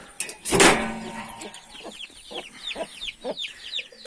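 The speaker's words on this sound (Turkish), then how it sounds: "Gold Brahma gürkümüzü göstereceğim size. Altında civcivleriyle birlikte." A Gold Brahma hen brooding chicks under her clucks softly in low, repeated murmurs while thin high peeps from chicks chatter throughout, after a brief loud rustle near the start.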